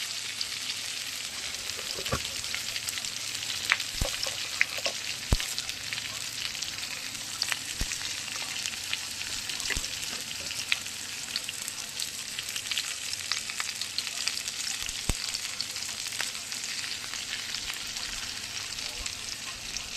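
Food being stirred in a frying pan of hot mustard oil, with salt about to go in: a steady close sizzle runs throughout, broken by scattered sharp scraping and clinking spatula strokes.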